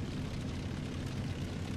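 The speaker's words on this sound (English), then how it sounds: "Oh, he's shooting an airplane." In War Thunder, during a Leopard 2A4 tank match, a broad continuous engine roar from an airplane fills the soundscape, loud and steady throughout without any talking.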